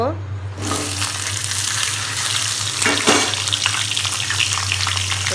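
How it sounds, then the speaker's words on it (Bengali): Mixed vegetables frying in hot oil for a rohu fish and five-vegetable dish, a steady loud sizzle with occasional stirring scrapes, heard alone without talk. "সবকটা সবজি একসাথে দিয়ে ভালোভাবে ভেজে নেব।"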